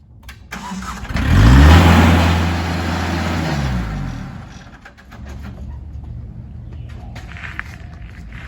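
A tractor engine starts and revs up loudly, its droning pitch climbing then sinking, before settling into a quieter steady rumble with faint clatter.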